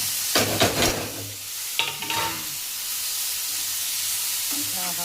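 Paneer and tomatoes being stirred in a frying pan, with two short bursts of scraping and clattering over a soft, continuous sizzle, then a quieter simmering hiss with a faint knock near the end.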